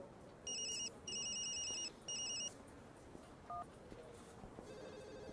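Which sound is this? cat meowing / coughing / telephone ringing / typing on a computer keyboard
telephone ringing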